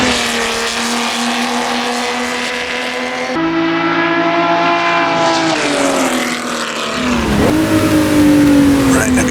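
A race car engine drones steadily in Assetto Corsa on a Laguna Seca circuit, a loud sustained tone holding pitch and then dipping and climbing again near the end as the car shifts through a corner.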